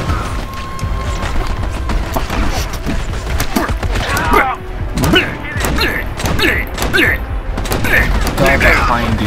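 Game gunfire from Army of Two, set at an oil field, rattles in rapid overlapping volleys with thuds and impacts, loud and continuous, while voices talk over the fighting.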